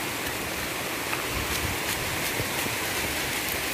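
Heavy rain pours steadily in the Philippines, a dense, even hiss of water with scattered heavier drops close by, continuous with no voices.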